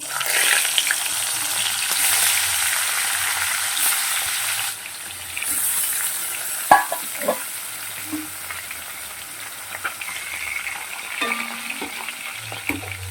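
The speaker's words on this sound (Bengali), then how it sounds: "তেলটা গরম হয়ে গেছে মাছগুলোকে ভেজে নেব" Hilsa fish frying in hot oil in a kadai makes a continuous crackling sizzle, broken by occasional scraping and tapping as the pieces are stirred and turned.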